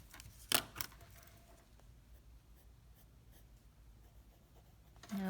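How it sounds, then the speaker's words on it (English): Pencil eraser rubbing out drawing guidelines on paper, heard as a few quick close scratchy strokes near the start, then quiet with faint later rubbing. "I'm going to go ahead and erase the side of my building"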